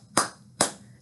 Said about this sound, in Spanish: Necesito que aplaudas cuatro veces, así.